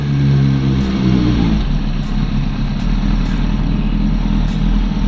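A Kawasaki motorcycle exhaust idles loudly in a car park, a deep steady rumble close to the microphone that roughens slightly after the first second and carries on alone.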